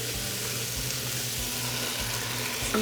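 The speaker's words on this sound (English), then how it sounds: "so we can start stirring that" Food in a sauté pan stirred over steady sizzling heat, a broad continuous frying hiss with soft rhythmic scrapes from the stirring, close and even, with no talking.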